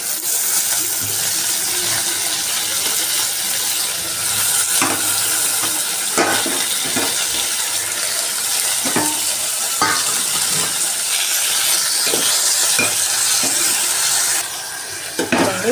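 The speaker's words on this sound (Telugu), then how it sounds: "ఇప్పుడు మనము నీట్గా కడిగి పెట్టినటువంటి గోంగూరను యాడ్ చేద్దాము" Washed gongura leaves fry with green chillies and onions in a pan for gongura chicken, a steady close sizzle broken by repeated scraping and clinking strokes of a spoon stirring against the pan.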